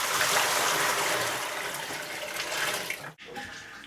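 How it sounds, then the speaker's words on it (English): Water dumped from a bucket pours and splashes steadily into a sink for about three seconds, then cuts off abruptly, followed by a softer trickle. "dump the water out in the sink."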